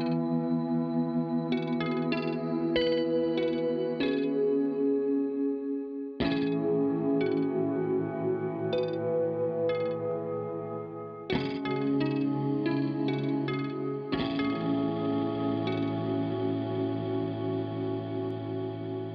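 Clean electric guitar run through a lush shoegaze effects patch, with shimmering chorus, echo and reverb; chords strummed and left to ring in long washes, with a few plucked notes on top, played alone.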